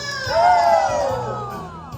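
A woman gives a sustained high scream, loud and falling slowly in pitch over about a second, over a live-performance backdrop with a faint crowd murmur.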